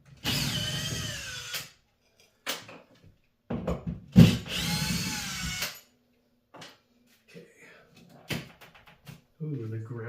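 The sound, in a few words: power drill removing drywall screws from a bathroom light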